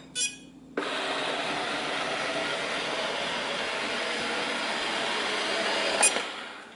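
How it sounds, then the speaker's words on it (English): An iLife robot vacuum cleaner starts up with a click, then runs as a steady, fairly quiet whirring hiss of motor and brushes, close by, with a brief clunk near the end and no talking. "So that's the sound of the iLife."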